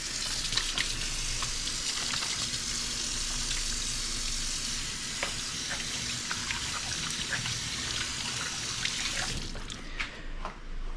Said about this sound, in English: I'm starting to hear that sizzle.